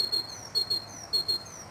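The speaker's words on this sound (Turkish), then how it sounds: "Kuşun ötüşünü. Seher vaktinde." A small bird chirps repeatedly at dawn in short paired whistles, clear and fairly close, with a steady rhythm and no talking.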